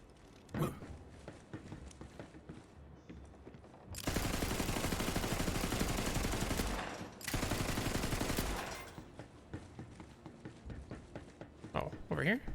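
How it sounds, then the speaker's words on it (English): Two long, loud bursts of sustained automatic gunfire in the looter-shooter Borderlands 3, each lasting a few seconds, fired at an explosive TNT barrel, with someone talking before and after and mechanical creaks around them. "Why wouldn't I just shoot the big TNT barrel?"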